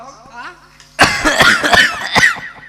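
Person coughing in a rural home, a series of several sharp, close coughs in quick succession after a brief quiet murmur.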